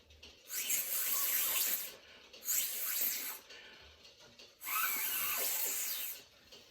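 Air blown through two straws set at right angles, one dipped in water, gives three breathy, hissing bursts of spraying air and water, each lasting over a second with short pauses between.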